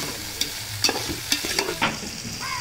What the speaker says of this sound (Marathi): मी आलं लसणाची पेस्ट टाकली ती मस्त पेस्ट मस्त आपल्याला फ्राय करून घ्यायची आलं लसणाची